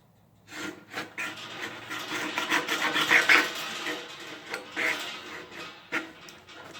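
Metal being cut by hand while building a hobo stove: a steady, close rasping saw stroke that repeats in uneven pulses, fairly loud and with no voices.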